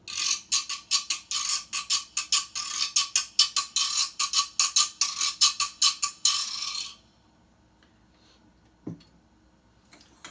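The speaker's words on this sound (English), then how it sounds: "And then we have this other, it's called guiro." Guiro, a raspador scraper, played in a quick run of about twenty rasping scrapes in a steady rhythm, sharp and close, then stopping and leaving near silence with one faint knock.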